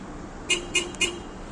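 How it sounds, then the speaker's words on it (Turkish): Three short, quick Hyundai Accent Blue horn beeps on remote start sound in an evenly spaced row over a low background hum. "korna uyarısı verdi."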